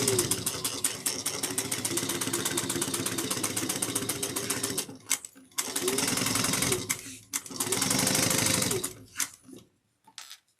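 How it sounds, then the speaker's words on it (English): A sewing machine stitching a tote bag seam with a 3/8-inch allowance, running in long steady rapid bursts separated by short pauses and stopping with a few quick stitches at the end. "we're going to sew that with a 3/8 of an inch seam allowance"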